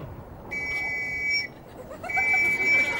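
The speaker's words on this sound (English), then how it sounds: "Oh god, there's the whistle." A whistle is blown in two long, shrill blasts separated by a short gap, heard in a comedy scene with faint background ambience and no speech over it.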